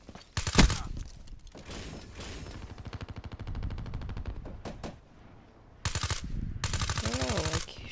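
Rapid automatic gunfire from the video game Call of Duty: Black Ops III, loud bursts of fire that stop briefly and then start again toward the end.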